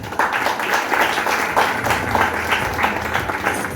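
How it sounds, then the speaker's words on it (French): Applause at a ceremony fills the space as a dense, steady crowd of clapping hands, continuous and fairly loud throughout. "Et sous vos applaudissements, je vous demanderai de l'applaudir."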